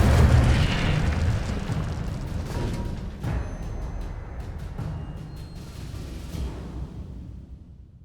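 In Hogwarts Legacy, the Incendio fire spell erupts with a loud, booming burst of flame that rumbles and crackles, then decays over several seconds with scattered pops before fading out.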